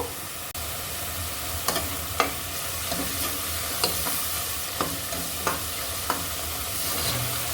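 Eggplant fries in a sautéed spice masala under a constant sizzle, a spatula scraping and tapping the pan at irregular intervals.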